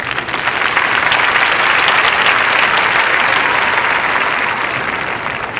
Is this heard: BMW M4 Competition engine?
no